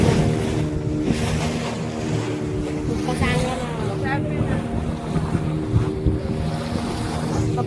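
A boat motors past at sea off Devbag beach amid big waves, its engine a steady droning hum blended with wind and surf noise throughout.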